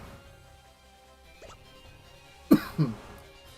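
A brief throat clear, two short rough bursts close to the mic after a quiet stretch with faint background hum.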